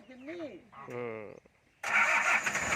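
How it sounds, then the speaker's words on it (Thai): A four-cylinder farm vehicle engine starts up suddenly and keeps running loud and close, after a few seconds of someone talking. "เครื่องฟิตสตาร์ทติดง่ายนิดนึง"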